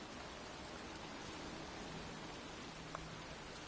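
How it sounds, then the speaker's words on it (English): Pouring rain falls in a cemetery in the video game Heavy Rain, a steady, dense hiss that fills the whole stretch without a break, with a faint brief tap near the end and no voices. "standing in a cemetery in pouring rain"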